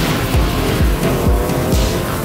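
Subaru Impreza rally car driving hard, its engine roaring loud and close with repeated rising revs and gear changes over a steady drone of road and tyre noise, no voices.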